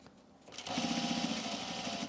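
After a quiet start, a sewing machine runs close and steady at a tiny stitch length, its rapid even hum lasting through to the end.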